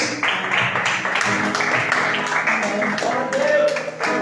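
A church congregation claps in praise, a steady dense patter of many hands filling the room, with singing or voices mixed in underneath throughout.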